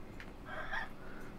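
One drawn-out chicken cluck from a coop in the horror video game Yomawari, faint and alone over a low steady background hum.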